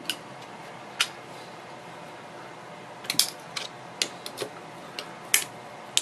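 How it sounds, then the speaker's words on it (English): A screwdriver tightens screws on a double-sided fishing magnet, making faint, irregular metallic clicks and ticks, scattered at first and then clustered in quick bursts, close and quiet. "Tighten down, and a little precarious getting the screwdriver on to the head of the screw because of the magnet."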